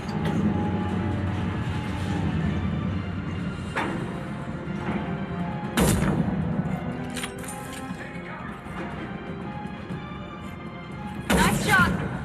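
Gunfire in the video game Mass Effect 2, loud broadband bursts near 6 s and 11.5 s with a few lighter impacts, over a steady low mechanical rumble of a conveyor line.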